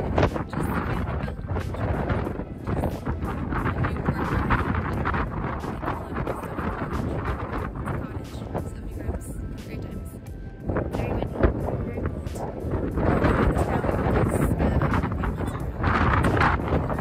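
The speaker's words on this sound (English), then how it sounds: "it was a struggle because it was so windy" Strong wind buffets the microphone outdoors in Boston, a rough, continuous low roar with gusty surges that fills the whole clip; a voice may talk faintly beneath it.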